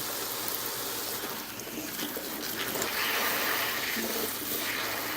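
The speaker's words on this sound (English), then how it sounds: "Rinse, rinse, rinse, rinse, rinse, rinse. Get them nice and clean." Collard greens rinsed under running water in a kitchen sink, a steady close splashing rush with a few brief spatters and no voice.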